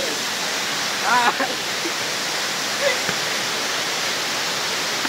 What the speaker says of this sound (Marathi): काय हा वॉटरफॉल बघा ऑडियन्स साठी भाई